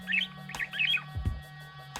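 Recorded bird calls played back in a forest: a few quick chirps and squawks come in short bursts over a faint low hum, fairly quiet and with no talk.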